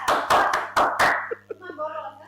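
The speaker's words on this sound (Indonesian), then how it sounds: "Sumuran, tepuk tangan dong." A handful of sharp, loud hand claps at a university graduation ceremony, five quick bursts in the first second before a voice starts speaking.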